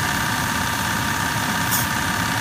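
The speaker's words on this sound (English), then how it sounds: "I can definitely hear that the AC compressor is working better now and not kicking on and off every few seconds" A car engine idles with its AC compressor running after a refrigerant recharge, giving a loud, steady, unbroken drone close by with no voices.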